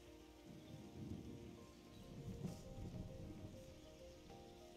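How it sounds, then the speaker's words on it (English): Steady rain falls in the video game Terra Nil as a soft, continuous hiss with a faint low rumble, quiet and even throughout with no speech. "Look at how it's raining."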